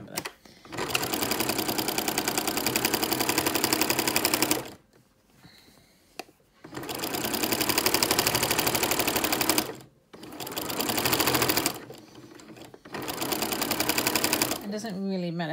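A sewing machine stitches a cardigan in three loud, steady bursts, each a few seconds long, with short quiet pauses between them where the motor stops.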